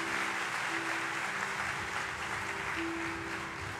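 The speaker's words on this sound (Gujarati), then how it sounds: "એકવાર આ સમસ્ત ખોરાવા પરિવારને પણ તાળીઓના નાદથી વધાવો" An audience applauds at a Hindu religious katha gathering in Mangrol Bandar, making a steady, fairly quiet wash of many hands clapping that lasts the whole stretch, with no clear talking.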